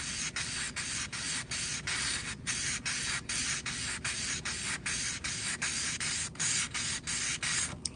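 Hand sanding a hammer with 800 grit abrasive, steady rhythmic scratchy rubbing strokes in quick regular succession, close and moderately quiet, with no voices.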